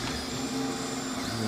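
A Tevo Michelangelo 3D printer runs with a steady, close mechanical whir and a faint tonal hum, continuous and even throughout with no voices.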